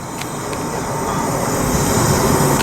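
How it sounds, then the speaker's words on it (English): A manifest freight train departs West Colton Yard with a loud, steady rolling rumble of rail cars. Faint high metallic squeals and ticks sit over it, and no one speaks. "another manifest departing West Colton Yard"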